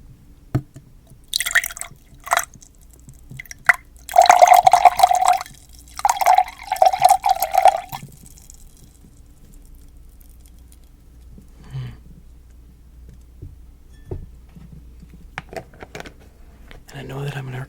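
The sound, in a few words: pouring a drink into a glass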